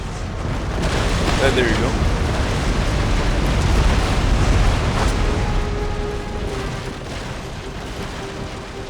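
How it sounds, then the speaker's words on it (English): Naval cannon broadside from Empire Total War: a sustained rumbling roar of heavy booms and blasts building over several seconds and then easing, with someone speaking briefly over it. "Just waiting until I get a nice full broadside."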